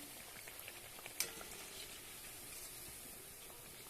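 Jackfruit chops frying in hot oil, a steady low sizzle and crackle with a single sharp pop near the start, heard close and alone without any talk.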